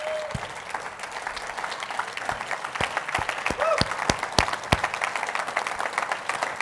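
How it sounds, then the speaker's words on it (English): Audience clapping at a talk: scattered, sharp individual claps at an irregular rhythm over a continuous bed of applause, with a few voices in the background. "Thank you all for clapping at me."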